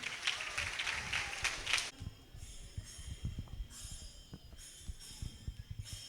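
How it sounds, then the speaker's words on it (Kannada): Audience applause for child Bharatanatyam dancers at Kodavoor Shankara Narayana temple: a dense burst of clapping for about two seconds, then fading to a quieter room murmur. "ಮಕ್ಕಳ ಪರವಾಗಿ ಜೋರಾಗಿ ಒಂದು ಚಪ್ಪಾಳೆ ತಟ್ಟಿ"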